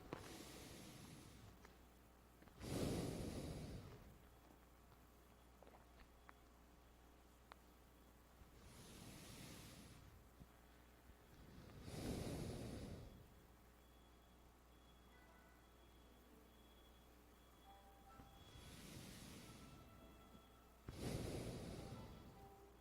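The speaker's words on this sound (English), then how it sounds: "Deep breathing. Inhale." Slow deep breaths during a Tai Chi exercise, six breathy inhales and exhales spaced a few seconds apart, close to the microphone over a faint steady hum.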